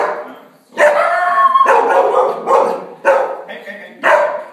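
A dog barks loudly and close by, five sharp barks in an irregular series with brief pauses between them, nothing else over them.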